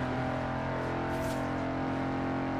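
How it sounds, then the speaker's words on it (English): An Audi RS6 engine revs hard in the racing game Forza Horizon 4, a loud, sustained harmonic drone held high near the limit with a brief rising surge partway through. "Come on, that's it. Build up the revs."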